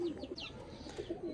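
A pigeon at a loft coos in soft, low, repeated throaty notes, close and fairly quiet, with faint higher chirps from other birds behind it.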